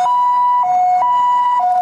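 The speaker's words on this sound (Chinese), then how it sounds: "救护车紧急将重伤的李姓钓客送医" An ambulance siren sounds while an injured angler is rushed from the Hualien harbor east breakwater at night: a loud, close two-tone wail that alternates steadily between high and low pitches, with no talking.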